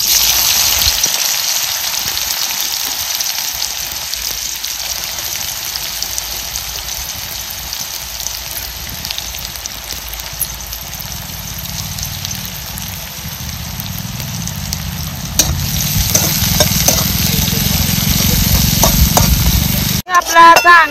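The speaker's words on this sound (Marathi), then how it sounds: "आता ह्याच्यात आपल्याला टाकायचा आहे कांदा." Chopped onion fried in hot oil for a spicy chicken sukka and stirred, a loud, sustained sizzle with scraping strokes growing busier toward the end.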